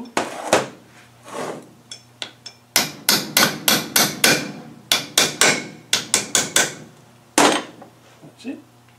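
A hammer strikes a part into a Land Rover LT230Q transfer case, with about twenty sharp metallic blows in uneven bursts, loud and close, separated by brief pauses.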